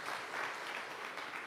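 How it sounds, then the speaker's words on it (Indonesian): A church congregation applauds, giving warm praise during a sermon, with a steady, even wash of many hands clapping at moderate volume and no voices over it. "Berikan tepuk tangan yang meriah buat Tuhan."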